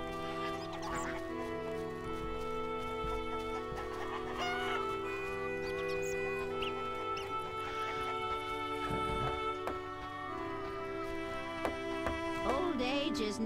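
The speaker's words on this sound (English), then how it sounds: "Beware the Witcher, chicken." Chickens cluck and squawk in The Witcher amid farmyard fowl honks, scattered calls rising over a constant low background hum, fairly faint throughout.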